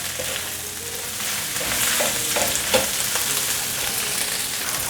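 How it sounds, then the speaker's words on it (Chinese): Dried pork skin shreds stir-fried in a hot pan give a steady, dense sizzle with a few scraping stirs and light clacks, close and continuous, with no voices. "皮丝稍微炒一下"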